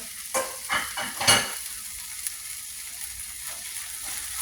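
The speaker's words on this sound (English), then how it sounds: "we're going to stir that in" A spoonful of spice being stirred into vegan crumble keema in a pan: a quick cluster of scraping stirs up close, then a quiet, steady low sizzle that continues on its own without speech.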